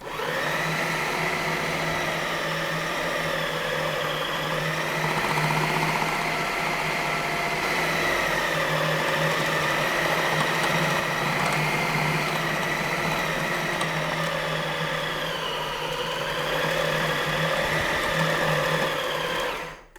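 A food processor pulses pie dough, a loud continuous motor whir with a steady hum running unbroken for about twenty seconds, slightly varying in pitch as the blade works the dough, then cutting off abruptly at the end.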